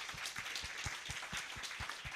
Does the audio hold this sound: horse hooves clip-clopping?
no